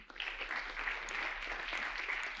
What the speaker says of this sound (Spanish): Adelante, un aplauso para ella.